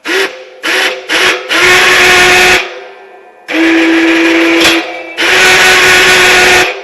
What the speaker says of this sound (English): That's a noisy winch.